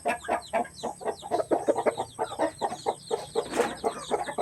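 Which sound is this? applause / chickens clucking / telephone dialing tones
chickens clucking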